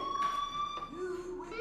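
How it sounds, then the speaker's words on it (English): A fire alarm in the video game Life is Strange sounds as a steady electronic tone at moderate distance, with a voice speaking briefly over it. "Hey, do you hear that fire alarm?"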